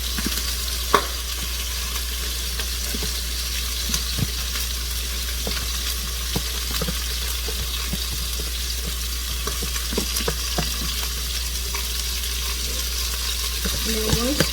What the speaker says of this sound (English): So I'm going to pour the rice into the pot.